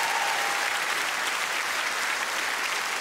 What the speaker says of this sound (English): Round of applause for the fantastic lady.